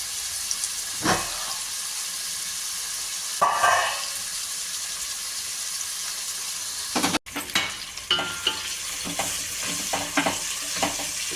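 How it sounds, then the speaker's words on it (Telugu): Onions sizzling steadily in hot oil in a home kitchen pan for a dalcha curry, a constant bright frying hiss with a few stirring scrapes and clinks, no talk. "ఉల్లిగడ్డలు ఏమి ఎక్కువ ఏగని అవసరం లేదండి. దాల్చిన కదా, నూనెలో మగ్గితే చాలండి."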